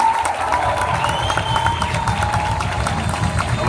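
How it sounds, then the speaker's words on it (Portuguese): A church congregation claps and cheers together in a steady, full wash of applause and crowd noise, with faint tonal sounds running through it. "Aplauda direitinho aí"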